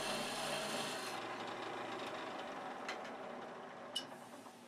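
A fluted parting tool cuts end grain on spinning wood spindle work on a lathe, giving a steady close rasping scrape throughout, with a few brief sharper ticks near the end.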